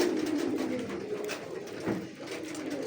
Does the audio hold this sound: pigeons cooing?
yes